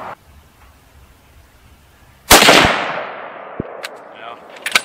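A single loud .30-06 Springfield rifle shot, fired with Remington Core-Lokt ammunition at a 100-yard outdoor range, cracks sharply after a quiet stretch, then decays into a rolling echo with a few faint clicks afterward.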